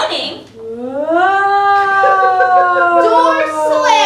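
Stage performers in a reader's theatre production imitate ghostly moaning with their voices, a long, wavering, rising and falling wail held over several seconds, with layered voices joining near the end.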